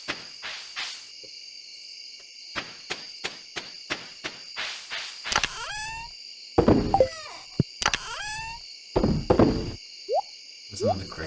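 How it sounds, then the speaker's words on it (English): Crickets chirp in a warm summer night, a steady high trill running through the whole stretch, while a person speaks in short bursts over it and some nearby knocks and shuffles come and go. "Listen to the crickets. Just listen to the crickets for a minute."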